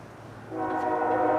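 A CSX freight train's horn sounds at a crossing, a steady, loud multi-tone blast swelling in partway through over the low rumble of the approaching locomotive.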